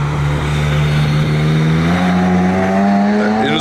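A young Ferrari sports car passes close by, its loud engine note droning steadily and rising in pitch as it accelerates, with no talk over it.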